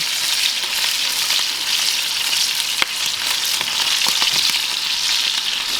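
Steak sizzles loudly in a cast iron skillet as rosemary goes in, a steady dense frying hiss with a few sharp pops and crackles scattered throughout.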